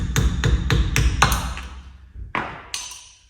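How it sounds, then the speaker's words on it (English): A flat-blade screwdriver struck on its end against a rear drum-brake sleeve on a Vauxhall Corsa C or Combo van, giving a run of five quick metallic ringing taps followed by two sharper, louder knocks, close by with no talking. "A little tap on the end of the screwdriver"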